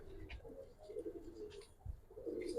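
Giribaz pigeons, a male and female pair, coo softly nearby in low, rolling calls that repeat over a quiet background.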